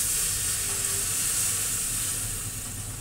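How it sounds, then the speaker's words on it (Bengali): Hot water is poured into well-fried spice paste for Bengali katla fish kalia, producing a loud continuous sizzle and hiss that holds steady and eases slightly toward the end. "আমি এখন গরম জল দিয়ে দেব।"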